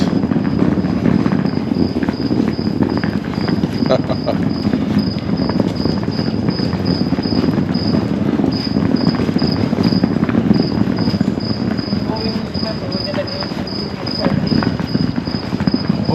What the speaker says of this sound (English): There's even crickets.